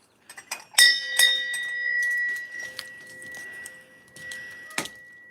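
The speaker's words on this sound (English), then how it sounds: "Should I ring the bell?" A small bell is rung a few times outdoors in a garden, bright clanging strikes that ring out and fade, with a last strike near the end and no talking.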